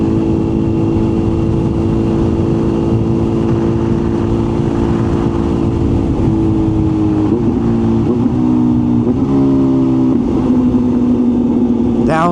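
A supercharged Kawasaki H2 motorcycle cruising at about 40 in sixth gear, a loud steady low-revving engine drone with wind rush, the pitch wavering slightly near the end, heard close from the rider's position.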